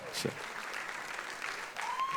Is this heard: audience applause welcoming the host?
yes